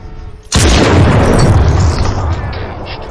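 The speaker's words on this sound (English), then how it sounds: "Sniper shots are incredibly satisfying." A sniper rifle shot in Crysis Remastered: one very loud, booming report that starts sharply and trails into a long, heavy rumble lasting a few seconds.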